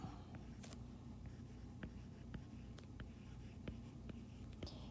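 A number being written out by hand, faint scratching strokes of a pen or pencil on paper in short separate marks against a steady low background hum.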